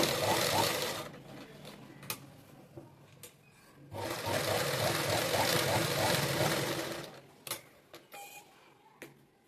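A tailor's sewing machine runs in two long bursts while stitching embroidery on fabric, a steady close mechanical whir with short stops and clicks between runs.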